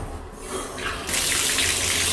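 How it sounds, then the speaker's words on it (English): Water runs steadily from a newly installed spout, starting softer and then surging into a full, loud hissing stream for the last second, with no talking. "let's test the spout."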